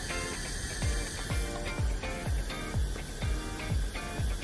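A first-generation Konica Hi-Matic film camera's self-timer runs with a steady mechanical whir, broken by evenly spaced ticks about twice a second, close and fairly quiet.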